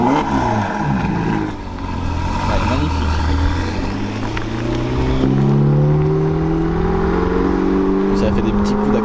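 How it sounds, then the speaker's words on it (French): A Porsche 911 GT3 RS (992) engine gives short throttle blips at a car event, rising and falling revs close by, with crowd chatter and people talking throughout. "Ça fait des petits coups d'accélérateur."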